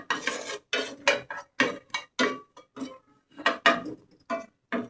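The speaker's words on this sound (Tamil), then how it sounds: "முந்திரியை பொரித்து எடுத்துக்கிட்டு கடலை இருக்குது, அதுவும் கொஞ்சம் பொரிச்சுக்கலாம்" A spoon or spatula scrapes and clinks repeatedly against a metal pan as cashews and gram are fried for rava laddu, a close, irregular series of sharp rattling strokes separated by brief pauses.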